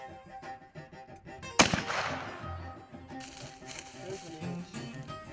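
A single shotgun blast during an Iowa deer hunt, one sharp, fairly distant report followed by a brief echo, amid quiet outdoor background.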